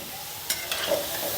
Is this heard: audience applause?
no